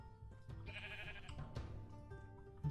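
Sheep bleat in Minecraft, short nasal calls heard at moderate distance over a quiet game background, with a few soft clicks.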